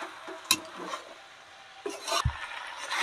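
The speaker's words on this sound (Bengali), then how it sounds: "আমি এবার মাংস মটর আলু সব একসঙ্গে ভালো করে এরকম করে আরও কিছুক্ষণ কষিয়ে নেব।" Meat, peas and potatoes are stir-fried together in a pan for chicken ghugni: scattered scraping and stirring strokes of a utensil against the pan over a faint sizzle, with no voices.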